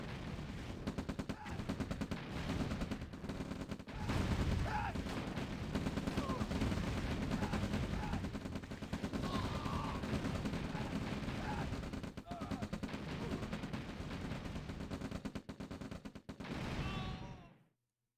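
Mammoth tanks fire their guns during an OpenRA Red Alert match, with repeated booming shots and rattling battle noise packed densely and continuously over the whole stretch.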